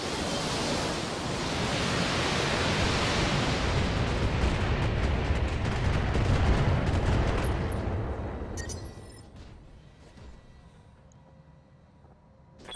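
Mech weapons volley in the Battletech video game: a sustained, dense roar of explosive fire that swells over several seconds, then thins into scattered cracks and crackling debris as it dies down.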